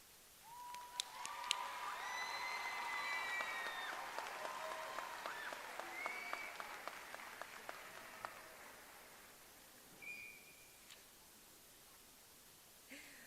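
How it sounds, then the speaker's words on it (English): Applause and cheering from a large crowd at a 2022 fall commencement ceremony, faint and distant, with whistles and shouts rising in the first half before fading to a quieter tail. "so that we can applaud you for your hard work"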